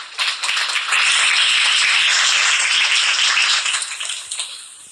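An audience claps for children at a church gathering, producing dense, sustained applause that rises quickly, holds for several seconds and then thins out near the end.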